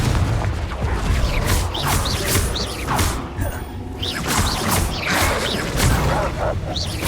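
A Confringo blast spell in Hogwarts Legacy sets off a string of booming, crashing explosions with whooshing bursts, loud and continuous, a faint voice calling out beneath the din.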